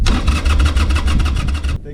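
A 2004 Harley-Davidson Sportster engine cranking over with a fresh battery after sitting for a week or two, a loud rapid rhythmic churning that cuts off abruptly near the end.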